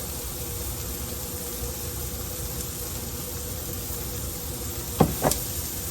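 Onions sizzle in bacon drippings on a flat top grill, giving a soft, steady hiss near the mic, with two brief knocks of a utensil toward the end; nobody speaks.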